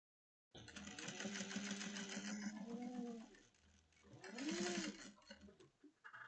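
A home sewing machine back stitches a 1/8-inch seam on a drawstring bucket bag, whirring in two close bursts with a brief slowdown between them.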